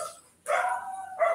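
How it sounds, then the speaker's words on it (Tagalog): Several dogs bark in short bursts in the background of a home setting, a loud cluster of barks followed by a second burst moments later, with no talking over them. "eto na naman yung mga aso. Sinasabayan na naman ako."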